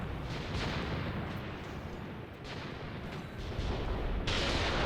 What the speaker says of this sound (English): A bit more artillery falling in here, yep.